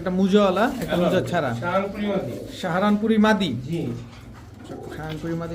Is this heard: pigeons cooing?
yes